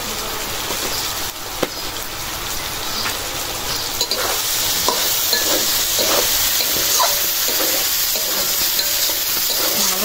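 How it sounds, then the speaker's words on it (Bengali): Spices and ground black pepper sautéing in a pan, a loud, steady close sizzle with stirring scrapes and occasional clicks of the spoon, no speech. "ভালো করে তো কষাই নিচ্ছি।"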